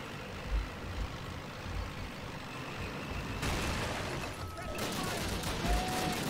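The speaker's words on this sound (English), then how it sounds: "Oh, mortars!" In the first Call of Duty game, dense battlefield noise fills the scene: heavy rumbling mortar fire and scattered gunfire form a constant loud wash, growing harsher and denser midway through.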